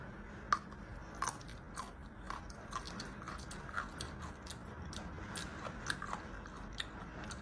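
Crisp, crunchy bites of spicy Chinese bamboo shoots being chewed close to the mic, a steady run of sharp crunches at an irregular, unhurried pace, with no talking.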